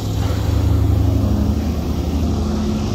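Steady street traffic close by, a continuous low rumble of passing cars with a broad hiss on top, loud and unbroken for the whole stretch, with no voices.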